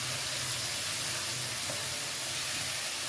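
Grated onion and tomato drop into a pan of frying spices, giving a steady, close broadband sizzle that holds evenly for a few seconds with no voices.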